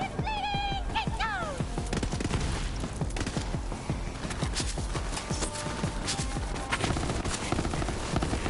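Rapid bursts of gunfire from a burst-fire weapon during a Borderlands 3 shooter game, with repeated clustered shots and clattering combat noise filling the scene, plus a few electronic tones near the start.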